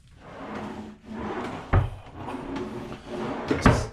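A large wooden closet drawer, about 70 cm wide, in a newly finished house slides and knocks shut twice with sharp wooden thuds, set against a low background rumble and no voices.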